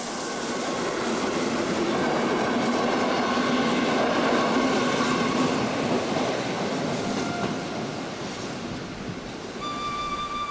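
A steam locomotive train rumbles past steadily on a main line with rhythmic wheel clatter and a broad roar, loud and close, then fading slightly at the end.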